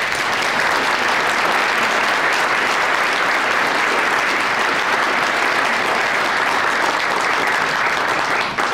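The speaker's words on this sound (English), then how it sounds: "please, a big warm round of applause for our president of our city council, Kathy Lantry" A crowd at the St. Paul Neighborhood Honor Roll event gives a big round of applause for city council president Kathy Lantry, steady loud dense clapping filling the whole stretch without a break.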